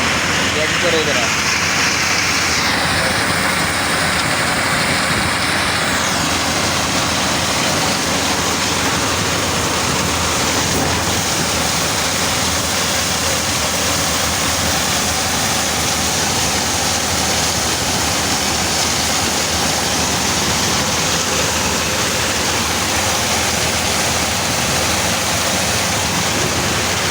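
A corn threshing machine runs continuously, a loud dense roaring and rattling churn that holds steady throughout with no breaks, while a voice is faintly heard under it.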